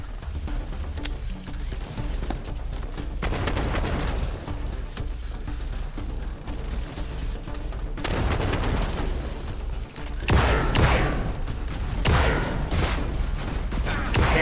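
Weapon fire in the video game System Shock, bursts of sharp shots in several loud clusters separated by quieter gaps, the heaviest flurry near the end.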